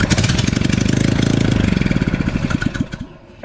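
A small Honda engine on a concrete mixer runs with no muffler, a loud, close, rapid popping putter that stutters and dies away near the end, with no voices over it.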